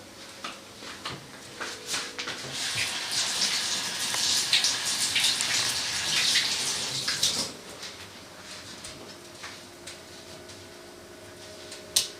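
Hands being washed under a running tap in a village kitchen, a steady broadband splash of flowing water with shifting spatter that swells through the middle and tapers off, close and fairly loud with no talk.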